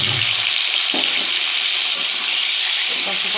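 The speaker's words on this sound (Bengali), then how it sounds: "কড়াইতে তেল দিয়ে দিয়েছি, তেলটা গরম হয়ে গেছে। এবার মাছটা আমি ভেজে নেব।" Prawns frying in hot oil in a wok, a loud, close, hissing sizzle that roars steadily throughout, with faint bumps of the pieces being turned.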